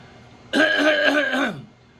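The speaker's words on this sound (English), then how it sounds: "Let me clear my throat for a moment." A single drawn-out throat clearing, close and fairly loud, lasting about a second with a gravelly, voiced rasp, then quiet.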